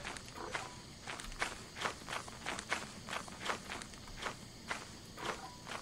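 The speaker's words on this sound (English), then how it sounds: "It's walking on the sand. I can hear its fucking footsteps" A monster's footsteps crunch on sand in Lethal Company, a steady run of about a dozen soft, gritty thuds at an even walking pace, fairly quiet and unaccompanied.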